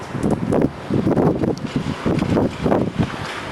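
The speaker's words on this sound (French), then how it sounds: "Excusez-moi s'il y a un peu de vent." Steady mountain wind during rain and snow showers buffets the microphone in loud, rumbling gusts throughout, with no voices.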